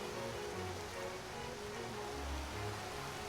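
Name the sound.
rain in Skyrim video game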